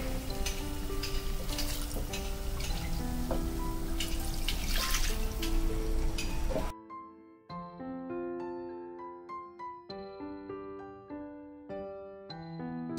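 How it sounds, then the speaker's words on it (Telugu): Water pours into a pan of bajji mirchi masala curry, a rushing, dripping splash for several seconds, then the splash stops and plucked melodic music takes over. "ఆయిల్ రిలీజ్ అయిపోయింది, ఇప్పుడు మీరు వాటర్ యాడ్ చేయొచ్చు।"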